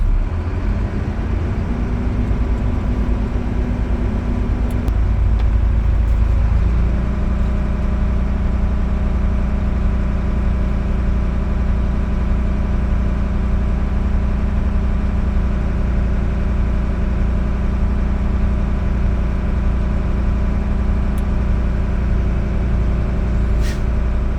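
A truck engine runs steadily at a fast idle in neutral while the air brake system recharges from 120 to 140 psi toward governor cutoff, a loud continuous drone with a pitch shift early on and no talking.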